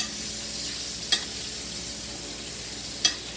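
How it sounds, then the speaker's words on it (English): Steak searing in butter in a hot pan, a close, steady sizzle with two brief sharp crackles spaced about two seconds apart. "look at the nice sear that it's getting. Look at all that caramelization that's getting on that top of that steak with that butter"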